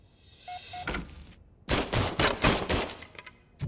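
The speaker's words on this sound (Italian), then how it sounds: "I was issued this old gun and serviced it. I will try it out." Gunfire from RoboCop's old service pistol in RoboCop: Rogue City, opening with a few sparse shots and then a rapid, loud string of sharp cracks after a brief pause.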